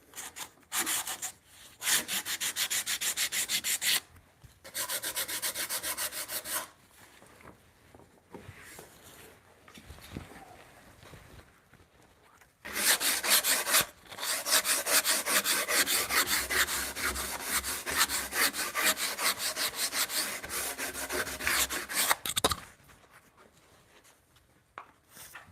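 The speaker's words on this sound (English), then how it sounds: "Obviously, y'all see this tenon needs to be sized a little bit." Hand tools size down a wooden tenon in long, rhythmic rasping and rubbing strokes, several bursts separated by short pauses, close and fairly quiet with no talk.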